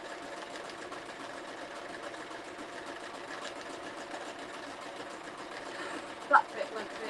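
An embroidery sewing machine stitches free-hand appliqué in a steady, continuous rapid whir at moderate level, with a couple of brief louder clicks near the end.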